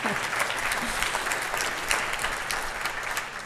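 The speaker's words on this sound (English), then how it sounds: "Yes, come on, Bradford gets a cheer." Dense, sustained applause from a large ceremony audience at a university chancellor installation, crowd clapping loudly and continuously with scattered cheers mixed in.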